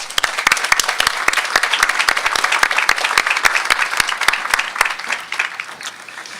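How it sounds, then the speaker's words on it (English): Sustained loud applause from a commencement audience at a law school graduation ceremony, dense rapid clapping filling the whole stretch at steady intensity. "Let's give them a round of applause."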